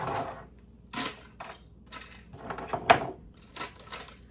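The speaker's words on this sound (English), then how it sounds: "So, let's put all the keys back." A bunch of metal keys being put back into a TV stand drawer: several bright, scattered clinks and jangles close by, with brief quiet gaps between them.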